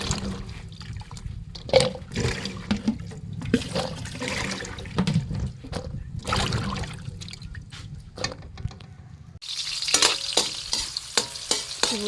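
Fried galunggong fish and pakbet cooking in a pan, with steady sizzling and stirring scrapes that turn sharper and brighter toward the end, close and moderately loud with no talk.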